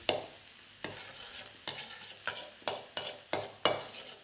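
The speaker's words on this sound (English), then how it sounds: "you're going to get about half your garlic into here. Just let that fry nicely." Garlic frying in hot oil in a wok, a soft continuous sizzle broken by a regular series of sharp spatula scrapes and tosses, close and fairly quiet.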